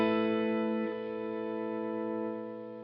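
A sustained distorted guitar chord rings steadily through a Gamechanger Audio Plus sustain pedal, its volume dipping in two noticeable steps as the pedal lifts halfway while the note keeps holding, with no talking.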